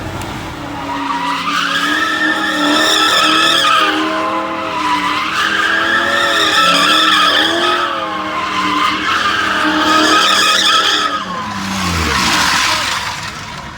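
Blue Mustang GT at a car meet, tires skidding and squealing loudly and continuously for over ten seconds with the engine roaring and wavering, then fading at the end.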